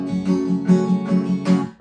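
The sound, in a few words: acoustic guitar strummed on every down and up stroke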